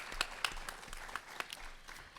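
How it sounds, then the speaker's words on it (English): Scattered applause from an audience at a student mayoral debate on youth issues, fairly quiet, with a few sharper individual claps standing out over a thinner, uneven patter. "Can we get another round of applause for our mayoral candidates?"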